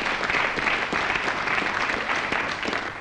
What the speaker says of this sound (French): Nous applaudissons tous